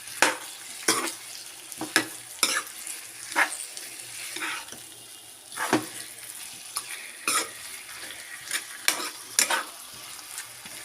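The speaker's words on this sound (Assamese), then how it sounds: "আৰু এতিয়া মই খুব ভালদৰে লৰাই লৈ অতিকমেও 10-15 মিনিটৰ কাৰণে কমৰ পৰা মিডিয়ামত মই মাংসখিনি সিজিবলৈ দিম।" Chicken curry meat being stirred in a pan as it cooks, with a quiet sizzle underneath and repeated scraping strokes of a spoon at irregular intervals, close and moderately loud, no talking.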